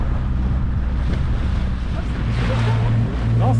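Boat engine droning steadily on a sea crossing from Porquerolles to Saint Florent, Corsica, wrapped in constant wind buffeting the microphone and the wash of waves, loud and continuous throughout.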